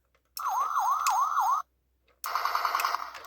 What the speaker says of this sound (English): As you can see with the Japan version, the siren is fixed